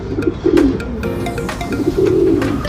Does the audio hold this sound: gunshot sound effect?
no